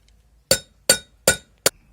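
A chisel taps a wheel bearing ring into place during a rear brake disc and bearing change on a Volkswagen Golf 3, four sharp metallic clinks in a quick, fairly even rhythm, close and clear.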